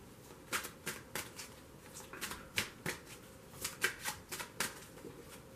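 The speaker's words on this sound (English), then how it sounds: "So let's get an oracle card, see what happens." Cards shuffled and drawn from an oracle deck during a tarot reading, a quick series of soft papery riffles and flicks in uneven bursts, close and moderately quiet with no talk.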